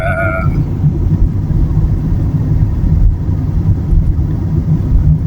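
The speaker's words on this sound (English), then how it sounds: "this is pretty much my Monday morning driving in the UK" A car driving on UK roads on a weekday morning, a steady, loud low engine and road rumble from inside the vehicle, with a brief chime at the start.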